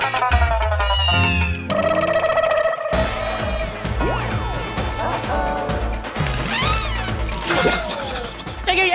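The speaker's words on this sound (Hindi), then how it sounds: "आप लोगों ने सुना बिल्ली की आवाज सुनी?" Cartoonish cat meows rise and fall among busy music and crashing sound effects, with a voice chiming in.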